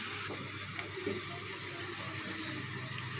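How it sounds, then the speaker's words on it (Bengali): About three cups of water pour steadily into a cooking pot of mashed, melted tomato for a homemade soup, a continuous soft splashing rush with no pauses. "এখন আমি এতে পরিমাণ মতো 3 কাপ পানি দিয়ে দিচ্ছি।"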